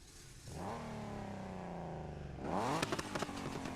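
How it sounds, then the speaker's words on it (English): A 1971 Nissan Skyline engine in the video game Need for Speed (2015), grip build, cranks and catches, settling into a rough idle before revving sharply upward with crackling pops near the end. "we're gonna shut it off and see how it sounds when you start it up."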